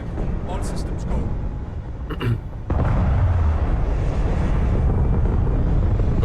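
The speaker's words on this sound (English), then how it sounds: "All crew prepare for takeoff." A spaceship in Starfield lifts off, a deep rumbling roar that swells and grows louder partway through and then holds steady, with voices talking and brief electronic tones layered over the top.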